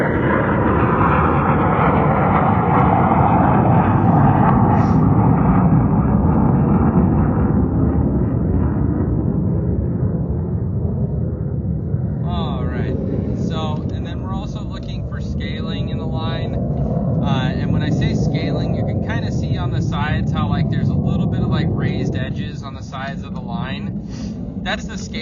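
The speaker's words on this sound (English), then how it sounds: "Just wait for this jet to pass over." A jet aircraft passes overhead in a loud, broad roar that slowly swells and fades over about twenty seconds, while a person talks over it later on.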